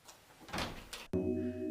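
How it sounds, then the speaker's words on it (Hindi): A door slams shut with one abrupt bang partway through, followed by a low ringing, eerie tonal drone, set in a ghost story after a quiet breathy stretch. "अचानक कमरे का दरवाजा धड़ाम से बंद हो गया"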